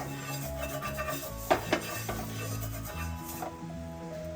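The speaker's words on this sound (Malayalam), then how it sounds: "അതിനൊരു ദോശക്കല്ല് ചൂടാകാൻ വെച്ചിട്ടുണ്ട്, അതിലേക്ക് കുറച്ച് എണ്ണ പുരട്ടി കൊടുക്കാം" Metal scraping and light clinks as oil is rubbed across a heated dosa griddle for a Kerala street-style bread omelette, with a couple of sharper knocks and low background hum, close and moderately loud.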